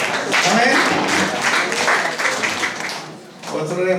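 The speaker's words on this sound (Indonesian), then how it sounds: "Yang setuju berikan tepuk tangan yang meriah buat Tuhan." A church congregation at a fellowship service claps enthusiastically, a loud broadband roar of hands mixed with shouting and cheering voices, dipping briefly before swelling again near the end.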